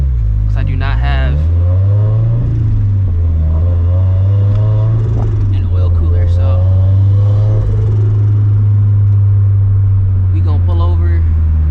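A Toyota FR-S fitted with a Greddy turbo drones loudly while being driven, its engine pitch rising and falling with the throttle as someone talks over it close by.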